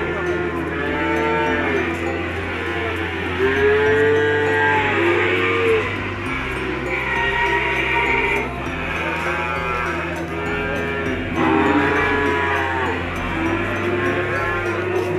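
Cattle at a livestock market moo repeatedly, several drawn-out calls overlapping from different animals at moderate distance over a constant low background hum, with no talking.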